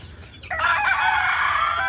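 A four-month-old golden Misri chicken crows once, close and loud, a brief, strained call that holds steady to the end.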